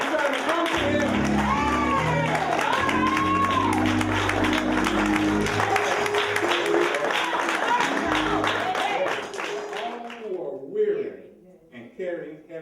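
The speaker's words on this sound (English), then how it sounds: "Give the Lord a hand clap of praise." Congregation clapping in praise during a church sermon, sustained rhythmic hand claps mixed with shouts, music and a preacher's voice, thinning out near the end.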